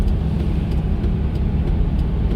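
Busy road traffic rumbles past as a continuous low engine and tyre drone, loud and close, with faint ticking noises over the top and no one speaking.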